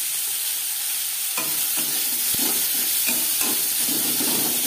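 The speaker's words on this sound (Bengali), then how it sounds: "3-4 মিনিট পেঁয়াজ ভেজে নেওয়ার পর" Three chopped onions stir and fry in oil left over from frying fish. A steady sizzle runs throughout, broken by several soft scraping stirs.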